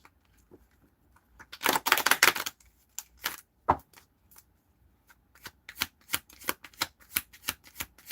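Tarot cards are shuffled up close: a dense riffle of crisp flicks, then scattered sharp card snaps and taps in quick irregular succession.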